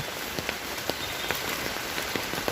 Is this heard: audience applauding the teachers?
no